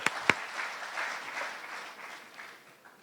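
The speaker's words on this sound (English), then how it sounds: "another round of applause for Rihanna Patterson" An audience at a national youth awards ceremony applauds an award winner, a soft, fairly distant spread of clapping with a couple of sharp near claps at the start, fading gradually toward the end.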